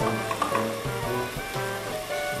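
A small splash of water hits a hot pan and sizzles steadily, a continuous hiss with faint bubbling, moderately loud and with no voices.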